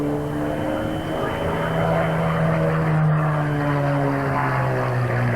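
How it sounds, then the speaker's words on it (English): An aerobatic propeller aircraft at a 1992 Humberside air show performs a torque turn, its engine droning with a strong, slowly wavering pitch at a moderate distance, under a commentator's voice. "The aircraft now into a torque turn, drifting to a stop, almost incredible, still rolling, still rotating and sliding backwards"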